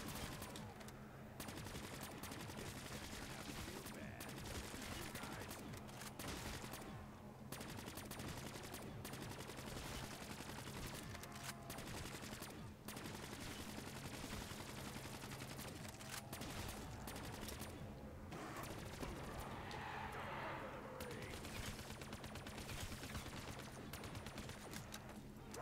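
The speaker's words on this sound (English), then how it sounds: "this gun reloads so much slower though compared to my HK and my KN-44" Video game gunfire in a zombies round-based survival mode, dense bursts of automatic weapon shots running continuously over a steady droning game soundtrack, fairly quiet overall.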